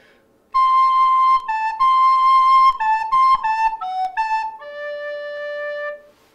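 A recorder plays a slurred, tuneful phrase from Mozart's Eine Kleine Nachtmusik, clear, bright sustained notes stepping through a short melody and ending on a long held tone, played solo and close.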